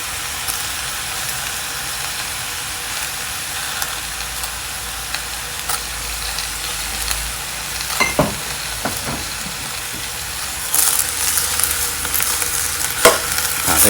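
White cabbage stir-frying with oyster sauce in a pan makes a steady soft sizzle and hiss, broken by occasional spatula scrapes and clinks, with no talking.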